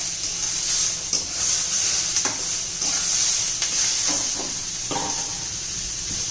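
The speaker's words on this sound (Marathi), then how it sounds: "टोमॅटो चांगला मऊ होईपर्यंत आपल्याला परतून घ्यायचं आहे" Tomatoes with salt sautéed in a pan, a constant bright hiss of frying with occasional soft stirring scrapes, close and steady without speech.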